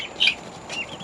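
Young chicken pullets on a farm give short clucks, two quick close calls within a second over a quiet background.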